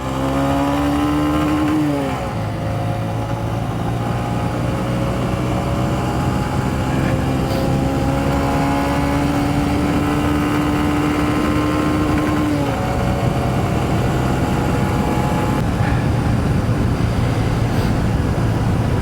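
A 2023 Honda CB125F fitted with a 28mm throttle body, its small engine droning loudly and steadily under load, pitch climbing and dipping as the throttle is snapped open, with heavy wind noise.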